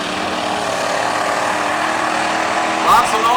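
A mud bogging truck at the Silver Willow Classic roars in a steady, loud engine drone during a run through the mud, with a sharper shift near the end and a crowd voice faintly under it.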